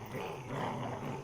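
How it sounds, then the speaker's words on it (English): Wolf growling during a scuffle in an audio drama, a low sustained snarl, close and fairly loud, heard alone. "Holy crap, it's the wolf."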